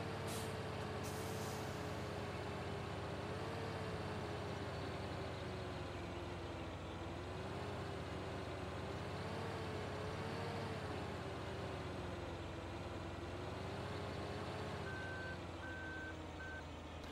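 A truck in Farming Simulator 2013 hauls a load with a self-ejecting trailer, its engine droning steadily throughout, with air brake hisses near the start and a run of reversing beeps toward the end.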